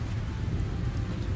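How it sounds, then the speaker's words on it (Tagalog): Heavy rain pours down during a typhoon with thunder, a dense, steady, close wash of noise with a low rumbling undertone throughout, no voices. "sobrang lakas ng ulan na may kasamang pagkulog at pagkidlat"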